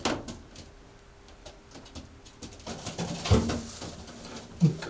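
A racing pigeon coos softly in a few low, short bursts toward the end, over quiet rustling and light knocking.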